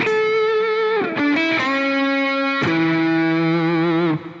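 A distorted, effects-processed guitar sample from the Bonham session library, sustained bright chords shifting pitch a few times with a sharp new strike near the middle, loud and continuous with no talking.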